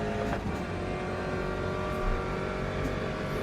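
Porsche RSR race car engine in Le Mans Ultimate, a steady loud drone held throughout with no clear shifts, continuous and close.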